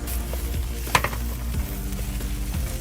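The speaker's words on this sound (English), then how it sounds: "So I'm adding all the tomatoes." Ginger and tomatoes tipped into a hot pan, a continuous close sizzle with a sharp clink of utensil on metal near the start and soft stirring scrapes throughout.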